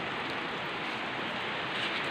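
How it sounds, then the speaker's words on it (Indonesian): Steady rain falling at a construction site for a closed-house chicken barn, a continuous even hiss of drops close by with no breaks and no voices. "Ini keadaan lagi hujan."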